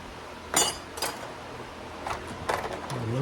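Metal bolts clink as they are picked out during a Husqvarna 346 chainsaw conversion build. Four or five sharp, close metallic clinks come at uneven intervals over quiet background noise, with no talking.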